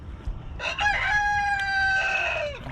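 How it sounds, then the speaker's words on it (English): Nearby a rooster gives one long, clear crow that holds steady and then trails off, over a faint outdoor background during gold panning with a drywasher. "That darn rooster."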